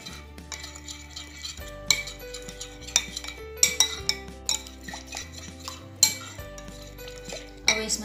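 A spoon beats curd in a bowl, setting off a steady run of metallic clinks and scrapes against the rim. A tonal background music bed plays underneath, and there is no speech.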